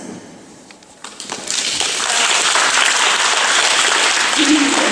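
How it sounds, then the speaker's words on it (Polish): Audience applause at a school ceremony for the end-of-year certificate presentation, rising after a second into steady, dense clapping from a large crowd that continues without break to the end. "Brawa dla ósmej klasy"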